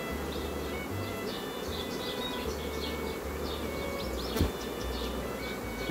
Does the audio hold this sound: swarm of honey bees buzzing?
yes